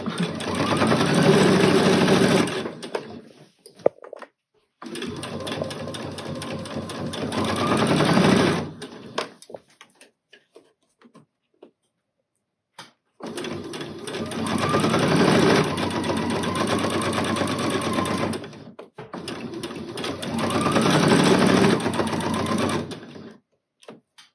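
A sewing machine stitches over elastic on a dress in long continuous runs, buzzing steadily for several seconds at a time with short silent pauses between passes, close and clear.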